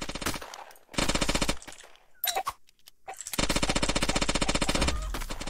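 Rapid automatic gunfire in the online shooter Shell Shockers comes in long, loud bursts of evenly spaced shots, broken by short gaps and a few scattered single shots.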